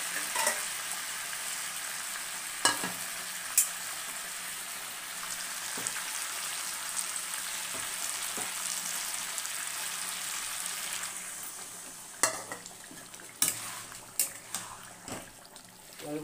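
Masala for an aloo chicken fish curry sizzles steadily in a pan with a constant bright crackle, and occasional sharp scrapes and clinks mark the stirring, with one burst of louder activity near the end.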